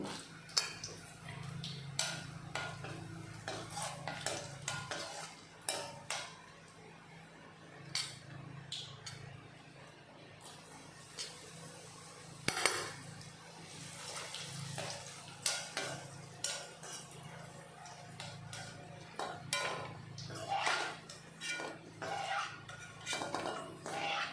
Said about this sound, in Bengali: এখন কাজু আর কিশমিশ দুটো ভেজে নেব